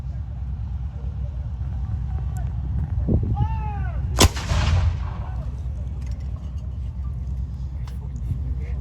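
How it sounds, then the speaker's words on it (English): A cannon fires once at a Gulf War reenactment with a sharp, loud blast and a brief echoing roar afterward, set against outdoor background noise and some voices. "A regiment is made up of about 8 of these cannons firing at once."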